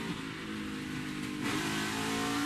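A NASCAR race car at the 2018 Bristol night race roars under throttle, a loud, steady engine note that swells slightly near the end, with no talking over it.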